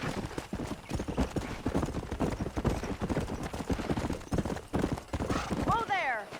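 Horse hooves gallop in Red Dead Redemption, a fast steady clip-clop running throughout, with a voice talking over it and a brief whinny near the end.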